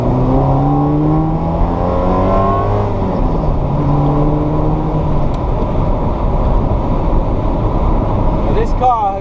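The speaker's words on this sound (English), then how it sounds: "And this car has got just the standard exhaust system. Sounds okay." A Ferrari 348 with its standard exhaust system drones loudly from inside the cabin while driving, the engine note climbing through gears in rising sweeps before settling, with talk running over it throughout.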